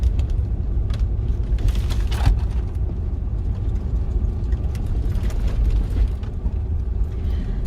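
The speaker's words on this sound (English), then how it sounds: "Alright, so we're driving up to the chalet." Car driving up a road to a chalet, a steady low engine and road rumble from inside the vehicle with occasional rattles and bumps.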